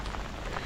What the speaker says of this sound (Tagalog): Lakas po ng ulan.